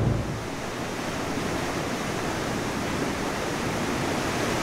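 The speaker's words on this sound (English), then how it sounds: "here behind me is River Savinja" White water rapids of the Savinja river roar in a steady, dense rush of broadband water noise, loud and continuous with no voices.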